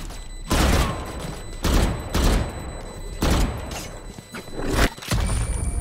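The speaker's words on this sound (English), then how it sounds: "Placing swarm grenade. Swarm grenade out." Killjoy's swarm grenade going off in the game Valorant, a run of loud, sharp bursts and crackling pops that repeat in close succession, with brief quiet gaps between the blasts.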